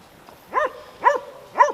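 Three sharp, strained yelps or barks from hunting dogs during a deer hunt in Te Urewera, New Zealand, spaced evenly about half a second apart, fairly close, with quiet between them.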